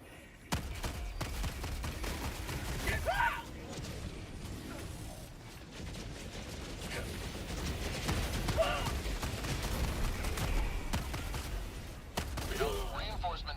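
Bursts of gunfire and booming explosions from the video game Helldivers 2, rapid and loud, recurring throughout amid mechanical clatter, with a voice talking at moments.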